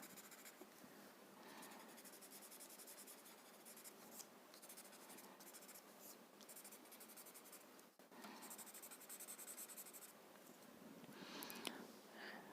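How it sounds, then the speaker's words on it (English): Watercolor pencil scratching and rubbing across paper, a steady close-up scribbling texture with short strokes and brief pauses, no talking. "then we can always resort to using our watercolor pencil."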